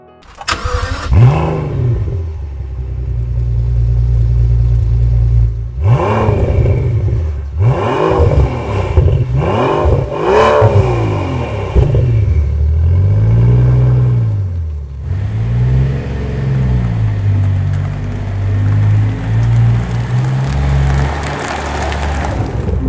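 2023 Rolls-Royce Dawn by Mansory engine starting and revving in loud close blips that rise and fall, then settling into a steady idle, no voices.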